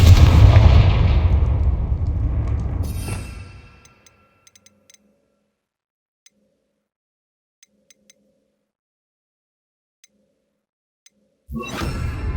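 A Confringo blasting spell exploding in the Hogwarts Legacy video game, a loud booming blast with a crackling, rumbling tail that fades over a few seconds into near silence with faint ticks, then another burst begins.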